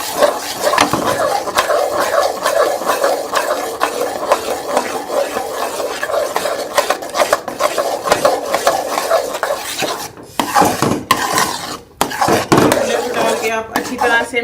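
A spoon scrapes and clinks rhythmically against a pan while stirring semolina halwa cooked with milk, a steady run of close metallic strokes with a couple of brief pauses near the end.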